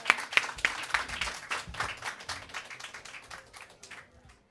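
A live audience claps for a singer about to perform music on stage, with sharp, close claps at first thinning into a scattered, fading round over several seconds.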